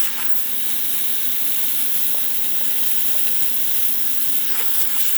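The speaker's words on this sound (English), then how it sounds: "steady stream of steam coming out of the machine, good temperature, excellent pressure, and no leaks coming from the side" Steam jets steadily from a Saeco Xelsis Evo espresso machine, a continuous loud hiss that holds unbroken for about five seconds with no talking over it.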